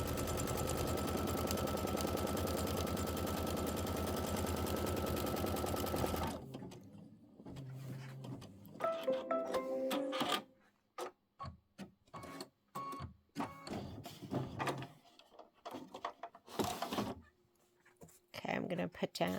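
An embroidery sewing machine stitching out a Kimberbell quilt block runs in a fast, steady mechanical rattle for several seconds, then stops, leaving scattered clicks, handling knocks and brief bursts of renewed stitching.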